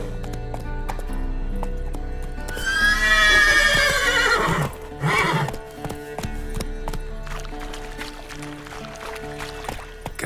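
A horse in The Witcher 3 video game gives a loud, drawn-out whinny, followed by a short snort and soft hoof clops over quiet game ambience.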